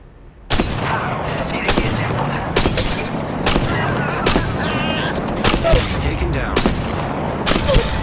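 Rapid bursts of enemy gunfire in the shooter game Apex Legends Mobile, loud and close, with repeated sharp volleys overlapping continuously amid game sound effects.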